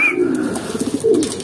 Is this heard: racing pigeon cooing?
yes